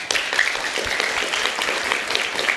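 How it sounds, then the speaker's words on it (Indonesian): Studio audience applauding for Liga Akbar, a witness in the Vina trial case; a continuous wash of many hands clapping, fairly loud and even, filling the whole stretch without speech. "Kita berikan tepuk tangan untuk Liga Akbar"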